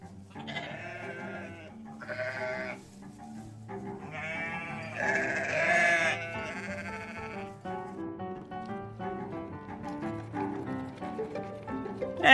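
Goats bleat repeatedly at a farm while feeding, several overlapping cries of varying pitch, loud and close, with a steady low rumble of animal activity underneath.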